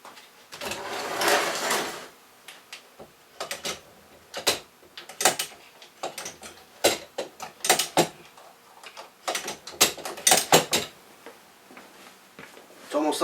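A reloading press works on a cartridge, producing a string of sharp mechanical clacks and clunks in uneven bursts, close and fairly loud, with a longer grinding stretch near the start.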